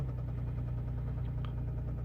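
A failing 3.0 V6 in a Jaguar X-Type AWD idles close by, a steady low hum with a pulsing, uneven throb and a faint tick near the end, with no voices over it.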